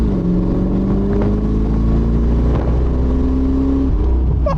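A Chevrolet Corvette C4 V8 in sport mode revving hard close up, its tone climbing and dropping, with crackling exhaust pops near the end.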